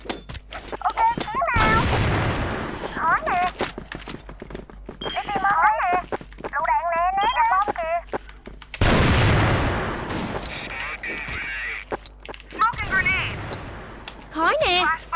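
Gunfire rattles through a video game match in loud repeated bursts and single shots, close and sharp, mixed with booms, while players talk over the action.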